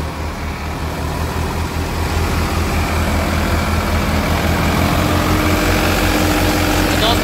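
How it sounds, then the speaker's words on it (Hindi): A Preet 4549 three-cylinder, 52 HP tractor engine runs steadily nearby with a deep, continuous chugging throb that grows slightly louder partway through, with no talking. "तो ये भी 3 सिलेंडर ट्रैक्टर"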